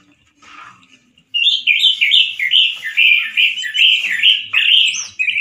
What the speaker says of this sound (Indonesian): yaitu burung jenis anis merah yang tampak di layar ini